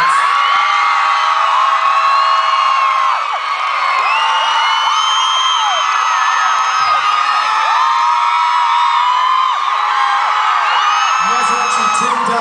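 A concert crowd in Montreal roars loudly and continuously, with whoops, whistles and shouts layered over the dense, sustained cheering.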